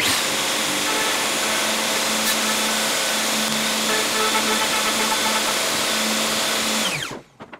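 A power cutter skimming light passes along the rail of a cold moulded wooden boat hull during repairs, a loud, steady, close whine that runs continuously before cutting off abruptly near the end.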